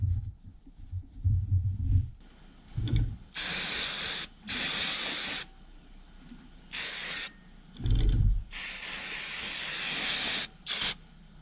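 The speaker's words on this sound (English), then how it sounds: "we'll hit it with the first coat of the primer, which again, this is a self-etching primer" Self-etching primer from an aerosol can is sprayed onto a boat propeller in about six sharp, loud hissing bursts of uneven length, separated by short pauses, with a few dull knocks at the start.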